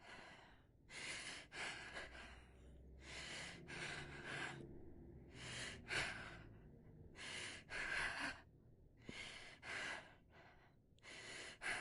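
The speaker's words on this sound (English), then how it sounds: "Addison's breathing still sounds the same to me" A patient's breathing in the video game Quarantine Zone comes as repeated heavy, gasping breaths with short pauses between them. The breaths are close and steady in rhythm across the whole stretch, with no talking over them.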